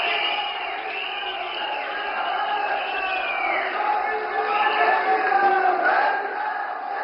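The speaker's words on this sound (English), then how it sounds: "they are applauding and cheering for the Prime Minister present" A large outdoor crowd at a rally in Uttarakhand applauds and cheers for Prime Minister Modi. The roar is steady and dense, with shouts and whoops mixed in, and it swells slightly near the end.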